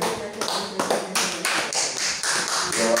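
A congregation claps together during a French church worship service, a dense sustained patter of hands filling the space with no speech over it.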